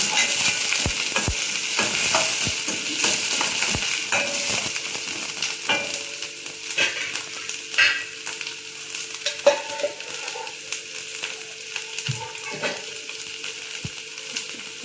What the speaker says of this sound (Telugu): ఆనియన్స్ గోల్డెన్ కలర్ వరకు వేడి చేద్దాం